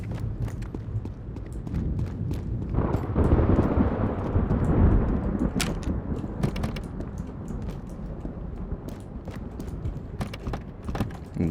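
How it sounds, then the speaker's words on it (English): Thunder rumbling low and heavy in the John Vostok video game, swelling to a long roll in the middle amid steady stormy background noise scattered with sharp clicks. "And thunder rages on."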